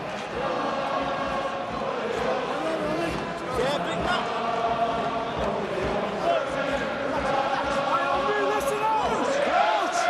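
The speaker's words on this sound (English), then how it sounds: "the band striking up and the crowd in good voice" A rugby stadium crowd rumbles at an Ulster versus Connacht match while a band plays through the noise, a dense, continuous roar with a commentator talking over it.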